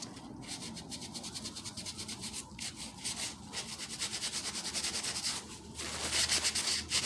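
Wax is rubbed over a moulded paper clay Christmas ornament in quick repeated scrubbing strokes, close and steady, growing slightly louder toward the end.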